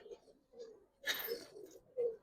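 Soft, low coos from Giribaz and coloured pigeons repeat several times at close range, with a brief rustle or flutter in the middle.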